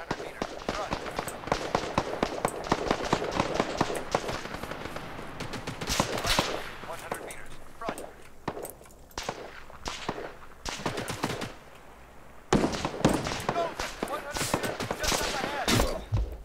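Rapid bursts of machine gun fire from a firefight in the military video game Arma 3, with repeated loud crackling volleys running throughout and only brief lulls, while people talk over the shooting.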